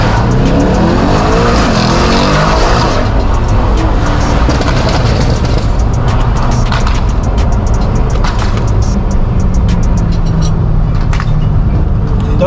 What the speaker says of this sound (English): Ryan Taylor and his bad boy AMG T versus the E63F.